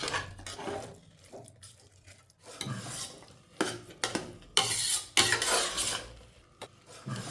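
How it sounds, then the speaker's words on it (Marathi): Puran, a cooked chana dal filling, is stirred and sautéed directly in a pressure cooker, with a spoon scraping and knocking against the metal pot in irregular bursts that grow louder and busier toward the end. "पुरण डायरेक्टली मी कुकरमध्ये परतून घेत आहे"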